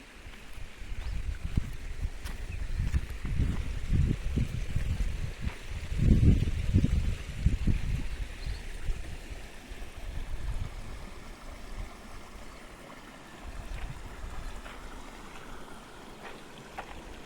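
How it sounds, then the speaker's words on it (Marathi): Water flows and gurgles in an irrigation canal running at low volume, with lapping and splashing surges that rise and fall, and a quieter steady trickle afterward. "कमी प्रमाणात चाललंय पण पाणी आलंय"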